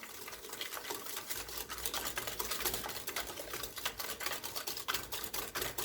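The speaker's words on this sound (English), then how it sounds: "Now I'm going to stir." A spoon works through a bread pudding mixture in a bowl, giving quick, uneven clattering and scraping strokes at a moderate, steady level.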